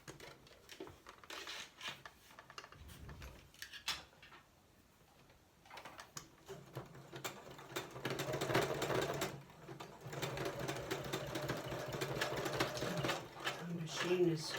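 A home sewing machine stitching through stiff, sticky Halloween craft material whirs in quiet bursts, with a pause near the start and a louder continuous run later on, and a voice talking over it.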